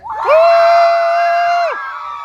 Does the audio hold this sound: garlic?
no